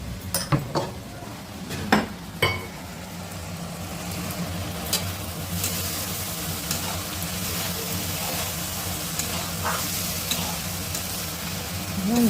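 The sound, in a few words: ridge gourd and potato frying and being stirred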